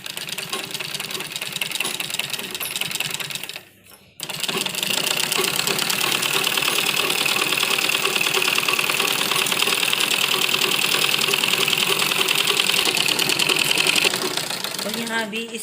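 A sewing machine runs continuously while stitching the edge of a men's kurta, a fast steady mechanical whir with a brief pause early on before stitching resumes, loud and close.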